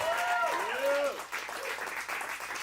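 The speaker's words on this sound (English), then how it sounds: "Guys, give yourselves an applause for driving all the way to Chatsworth. And keep it going for tonight's comedians" An audience at a comedy awards night applauds the comedians, broad clapping heard close under a voice.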